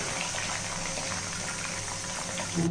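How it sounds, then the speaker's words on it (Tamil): Castor oil pours into a hot iron kadai with the heat turned off, giving a steady bubbling fizz that holds evenly throughout at moderate loudness. "இந்த விளக்கெண்ணையும் இதில் ஊற்றிடுவோம்."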